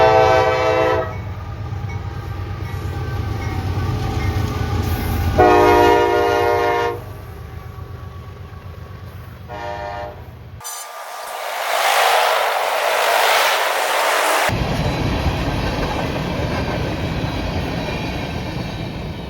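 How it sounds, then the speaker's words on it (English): A manifest freight train led by a CM44 locomotive with an ES44AH trailing passes close by in Folkston, Georgia. Repeated loud horn blasts sound over a steady rumble of locomotives and rolling cars, with a burst of intense wheel and rail noise midway. "Our next train is another manifest with a CM44 in lead"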